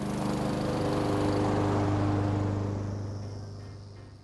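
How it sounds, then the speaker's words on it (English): A Honda HRX217VKA 187cc gas engine on a 21-inch walk-behind lawn mower drones at a steady, close hum. The engine then fades slightly toward the end. "Turn the fuel valve on to start the lawnmower."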